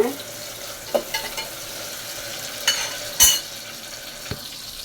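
Onions and mint sautéing in a pan for a green peas kootu, a soft sizzle broken by a few scrapes and stirring knocks, close and moderately quiet.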